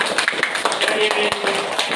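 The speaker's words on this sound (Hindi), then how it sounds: "तो इनके लिए पहले ताली बजाइए।" Children in a classroom clapping for a classmate during a lesson on Hindi, English and Roman numerals, a short burst of claps close by with talking over it.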